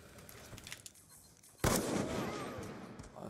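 A single loud gunshot in a video game cracks out abruptly after a stretch of quiet game ambience, followed by a lingering echoing tail.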